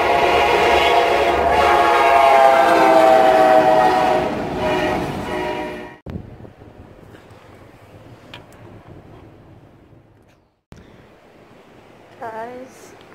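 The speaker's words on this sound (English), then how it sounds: "There's a train coming, it looks like. I hear the train." A train rumbles past loud and close, its horn sounding with a steady, strong noise that drops off abruptly, leaving a quieter background with a few knocks and a faint high chirp.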